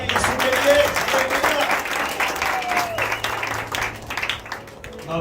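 A church congregation claps loudly for Jesus, a thick, sustained round of applause mixed with voices talking and calling out over it, gradually thinning toward the end.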